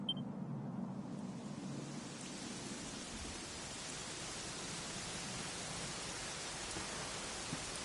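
Steady, dense rainfall in the Dragon Quest XI game, an even broadband wash of falling rain that fills the scene without pause, alone with no voices.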